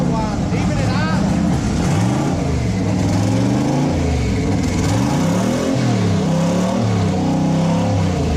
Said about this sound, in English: You can hear him right now, whining, even at idle.